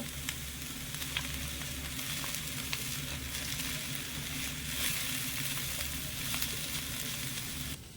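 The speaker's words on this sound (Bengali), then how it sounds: "হালকা করে একটু নেড়ে চেড়ে ভেজে নেব" Raw papaya frying in a pan while being stirred, giving a steady, dense sizzle with light scraping throughout and no talk.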